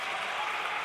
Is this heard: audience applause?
yes